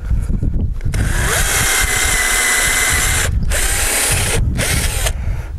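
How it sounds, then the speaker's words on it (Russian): A cordless screwdriver drills a pilot hole for a screw while building shade-garden beds, running loud and close in three long whirring bursts with short stops between them. "Ямку отрываю для самореза. Ой, для шуруповерта."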